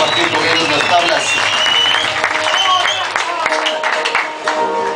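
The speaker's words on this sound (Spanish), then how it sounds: "Un aplauso para los compas que estuvieron aquí." A concert audience applauds at a live show in Loja, Ecuador, clapping and cheering under a voice speaking over a microphone.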